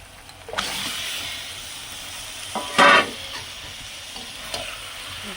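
Meat frying in a pan with ginger, garlic and onion gives a steady, close sizzle, broken by a few louder scraping bursts as it is stirred, with no talking.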